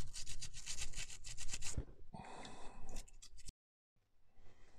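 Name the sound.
brushing and washing Forge World resin miniature parts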